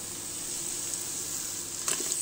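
Onions sizzling in a little olive oil inside a hot Cookeo multicooker, a steady close frying hiss throughout with a brief stir or clink near the end.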